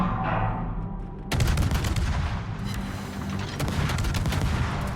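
Warship main battery guns fire in World of Warships, a sudden loud booming salvo followed by repeated rumbling blasts and rolling gunfire, dense and close, with no voices.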